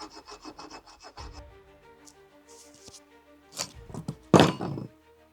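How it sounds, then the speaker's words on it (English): A hand file works a slot in stainless steel, strokes repeating steadily in a quick series of rasping passes, then a few louder, heavier scrapes and knocks near the end, close and alone. "running the file through here to finish this slot off, mainly at the corners"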